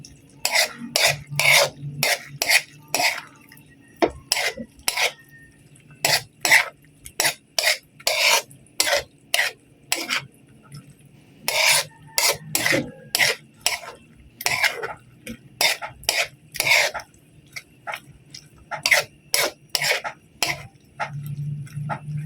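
Sautéed bitter gourd (ampalaya) with egg is stirred in a pan, producing repeated rhythmic scraping strokes of utensil against pan, close and loud, in regular bursts with brief gaps and no talking.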